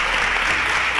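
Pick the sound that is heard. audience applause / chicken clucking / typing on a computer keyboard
audience applause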